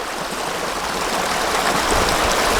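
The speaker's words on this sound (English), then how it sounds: "Water that's flowing, water that gives life" Water flows in a steady stream, a dense, even rush with no breaks for a couple of seconds, fairly close and continuous, with no voices.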